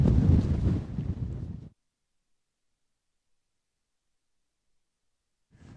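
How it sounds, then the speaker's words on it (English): Gusty wind on a Lake District mountain slope below Dow Crag buffets the microphone with a loud, rough roar for under two seconds, then drops to silence before a short gust returns at the end. "as soon as I start to speak the wind picks up again"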